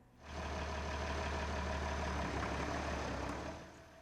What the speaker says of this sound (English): For 30 years now, Steve Supel has revved up the tractor at his Cascade farm for daily chores.